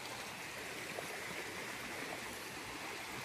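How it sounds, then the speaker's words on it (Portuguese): Small creek of water flowing out from a dam spillway, giving a steady, close, moderately loud broadband rush and babble with no talking over it. "esse aqui era um corguinho pequenininho, ó. Da onde sai a água da barragem."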